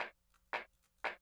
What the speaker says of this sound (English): we took this little snap sort of sound and we put it in our song